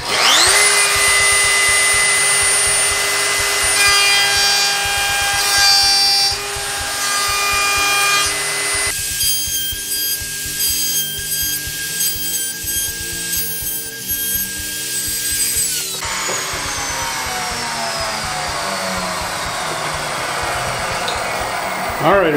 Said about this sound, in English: We're ready to cut the first of our pins